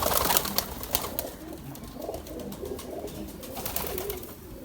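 A large pigeon coos in soft, repeated throaty phrases close by, with a few sharp taps and rustles scattered through the background.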